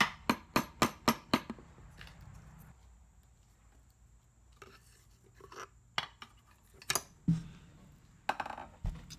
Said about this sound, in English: give it a few love taps with a wooden handle